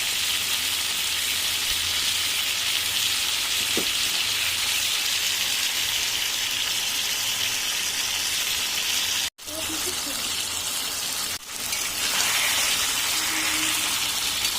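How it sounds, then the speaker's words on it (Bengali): Meat frying with spices in a pan gives a steady, bright sizzle that hisses continuously, close and moderately loud, with one brief drop in the middle. "সব মশলা ভালো করে ভেজে নিয়েছি"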